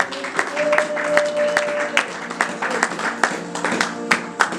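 A church congregation at a worship service claps in a lively, fairly rhythmic applause, with distinct hand claps over a murmur of voices and a brief held tone partway through.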